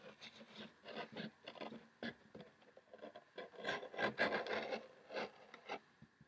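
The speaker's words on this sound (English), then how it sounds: "I just wanted to cut a little bit into the top" A blade cuts into the top of a cardboard box with a series of short, rasping scrapes in an uneven rhythm, close and fairly quiet, with no voices.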